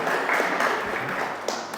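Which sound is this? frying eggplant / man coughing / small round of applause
small round of applause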